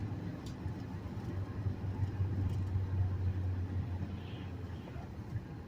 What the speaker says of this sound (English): Downshifting into 4th gear.